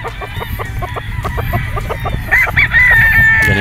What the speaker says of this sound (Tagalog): Ganito karami ang manok